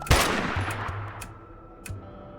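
Gunfire in the post-apocalyptic game Dustland Delivery, aimed at zombies: one loud close shot followed by a few lighter sharp bursts in quick uneven succession, each fading quickly.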